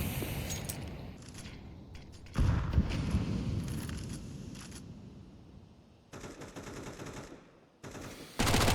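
A MAC-10 submachine gun fires in Counter-Strike 2 during a professional match on the Anubis map: a few loud bursts of rapid gunfire separated by quieter game ambience.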